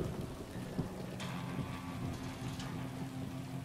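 Steady rain with rolling thunder in the video game Killing Floor 2, a dense continuous wash of falling water with a louder thunder crack partway through, no talking.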